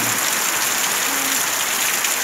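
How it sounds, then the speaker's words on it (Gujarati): Heavy downpour during a cyclone in Kutch district, with strong wind, a steady dense hiss of rain held at an even level throughout, with no voices. "જિલ્લામાં ધોધમાર વરસાદ ચાલુ"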